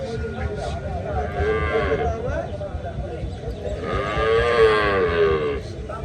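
Cows mooing at a village cattle market in Chuadanga, Bangladesh, where dairy cows with calves are sold; two long, loud, close moos over a murmur of crowd voices.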